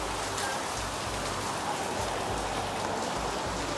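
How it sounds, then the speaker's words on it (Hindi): Steady heavy rain falling on surfaces outside a home, a dense continuous hiss of drops with a low rumble underneath and no talking. "बारिश चालू।"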